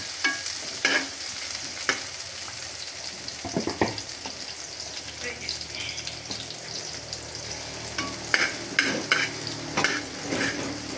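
Chicken liver with ginger browning in a frying pan, a constant hiss of sizzling broken by irregular scrapes and clinks of a utensil stirring against the pan, without speech.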